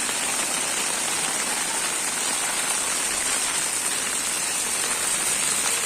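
Heavy, constant rain falls over flooded roads in Jetpur, Rajkot district, Gujarat, a dense, unbroken hiss of drops striking surfaces nearby, steady in loudness throughout and free of speech.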